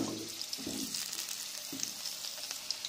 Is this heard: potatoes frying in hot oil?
yes